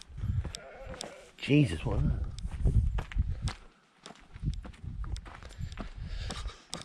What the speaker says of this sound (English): Good bit of goat fight.